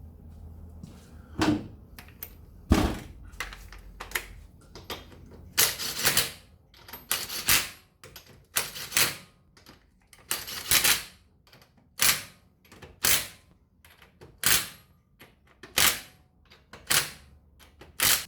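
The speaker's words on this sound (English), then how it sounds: "Do it up with the torque wrench and you're laughing." A torque wrench tightens the wheel hub nuts on a Mitsubishi Pajero Sport, giving a series of sharp ratcheting clicks in regular bursts, close and distinct, with short pauses between turns.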